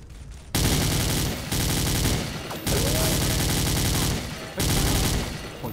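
Gunfire in the XSHOT shooting game, four long bursts of loud, rapid automatic fire separated by short pauses, close and harsh, with no talking.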